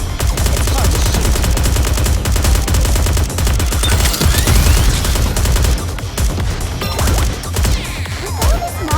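Rapid, loud gunfire from a Goddess of Victory: Nikke battle rattles almost nonstop, with dense automatic bursts and occasional impacts and crashes layered throughout.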